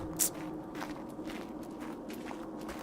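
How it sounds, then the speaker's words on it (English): Faint, soft footsteps of a Roll Rat in Ark: Survival Evolved Aberration patter steadily at a distance over a low ambient hum, with one sharper tap near the start. "That is the sound of a roll rat walking around here somewhere"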